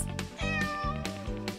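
Cats meow loudly and close in a quick series of overlapping, tonal cries, several calls following one another with no talk over them.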